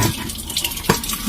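Cabbage cooking water pours out of a pot, a short close splashing gush with a small slosh midway.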